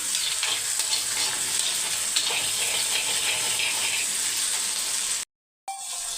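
Onions sauté in a pan for village-style chicken curry, a dense, steady sizzle with faint stirring scrapes, close and constant until a brief drop-out near the end before the frying resumes.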